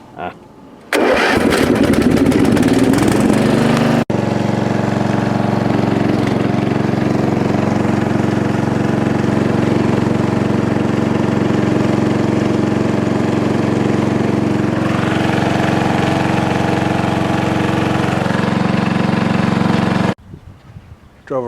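A tractor engine on choke cranks briefly, catches and roars to life, then settles into a steady, loud, close idle that runs without a break until it cuts off near the end.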